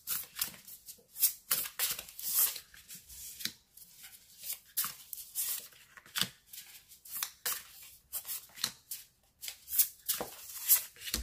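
Tarot cards are shuffled for a cross spread reading, giving quick papery riffles and flicks in irregular bursts, close and fairly soft, with no talking.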